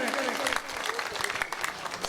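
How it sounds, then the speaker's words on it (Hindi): A crowd at a political rally applauds a young speaker being welcomed, brief dense clapping under a voice talking over it. "जोरदार तालियों से अभिनंदन करें।"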